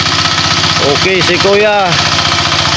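A kuliglig hand tractor engine chugs out in the hills with a steady, loud, rattling knock from start to finish, while people talk over it.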